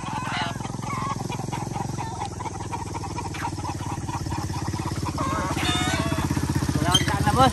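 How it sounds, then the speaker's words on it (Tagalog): A motorcycle arrives at a farm, its engine drone building gradually louder, mixed with dog barking and other outdoor noise. "Padating na motor."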